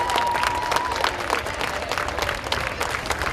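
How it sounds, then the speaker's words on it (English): Outdoor crowd applause at a small-town Independence Day parade, greeting a 93-year-old World War II veteran; steady, dense clapping and cheering holds throughout at moderate loudness. "Let's give Hot Harry a round of applause."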